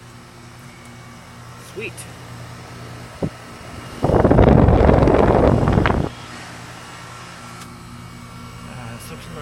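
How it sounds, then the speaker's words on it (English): An outdoor heat pump with a new compressor, running at night on a breezy neighborhood evening, swells into a loud, broad rushing whir for about two seconds over a steady low hum, with a brief spoken word before it. "The heat pump's running."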